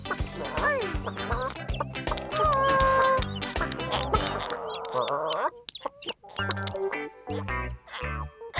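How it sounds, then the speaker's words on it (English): Chickens cluck and squawk close by, mixed with jingling chimes and bright musical tones in a lively, busy soundscape. "Good morning, chickens."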